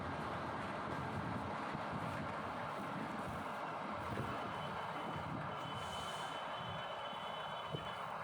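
Riding inside a passenger train, a steady rumbling roar of the carriage and wheels filling the whole stretch with no talk.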